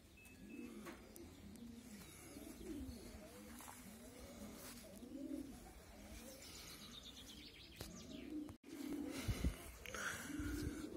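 Pigeons coo steadily in a racing pigeon loft, a soft rhythmic chorus of repeated low burbling calls, close and continuous with a brief knock near the end and no talking.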